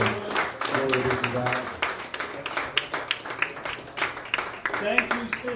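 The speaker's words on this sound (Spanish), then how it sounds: "Un aplauso para ellas." Church congregation at an evangelistic service applauding, scattered clapping heard under and between ongoing speech.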